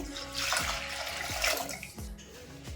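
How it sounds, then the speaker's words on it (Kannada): About half a litre of water pours steadily into a pot of lentils with turmeric and tomato, a continuous splashing gush with gurgling that rises and dips. "ಒಂದ್ ಅರ್ಧ ಲೀಟರ್ ಅಷ್ಟು ನೀರು ಹಾಕೊಂತಾ ಇದ್ದೀನಿ"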